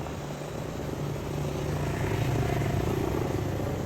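A steady, droning buzz of small propellers from a DJI Mini drone holds throughout, loud and close, with a faint rise in intensity partway through.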